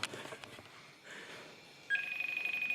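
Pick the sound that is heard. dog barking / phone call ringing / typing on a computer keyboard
phone call ringing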